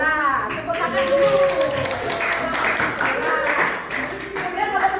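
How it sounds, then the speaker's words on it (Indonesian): A class claps for the best-performing group in a biology teacher-training session, a moderate burst of scattered hand claps mixed with voices talking over it. "Tepuk tangan dulu."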